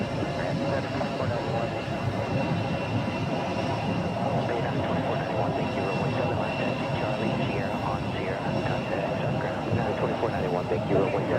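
An American Boeing 777 jet airliner arriving from London at Phoenix airport makes a loud, steady broadband roar that holds without a break from start to finish.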